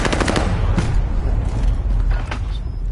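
Dense, loud gunfire in Call of Duty Warzone, with rapid overlapping bursts and shots filling the clip close up and continuous throughout.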